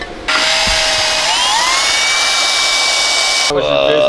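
A power drill whines loudly and steadily while drilling holes for engine mounts in a car chassis, its pitch climbing as it spins up, then cuts out briefly and starts again.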